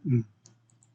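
A computer mouse clicks a few times while working in the Delphi programming environment. The clicks are faint and sharp, and they come just after a brief low vocal sound.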